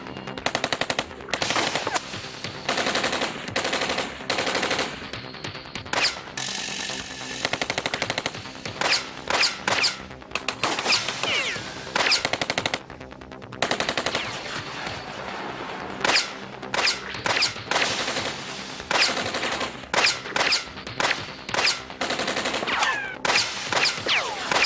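Night-time machine gun fire in a Hindi TV horror serial, heard as long, loud, rapid bursts of automatic gunfire with brief gaps, overlapping volleys and echoing cracks throughout.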